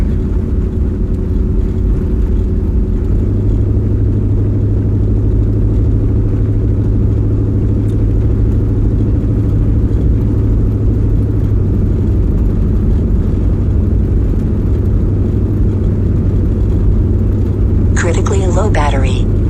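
A car on the road gives a steady low engine drone and road rumble for the whole stretch, with a brief higher chirp near the end.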